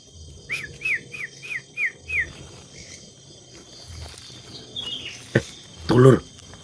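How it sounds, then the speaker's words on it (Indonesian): A bird calls at night in a short rising series of about six chirps, fairly clear against a quiet background, followed by a louder, lower burst of sound. "malam-malam ada suara burung kayak gitu"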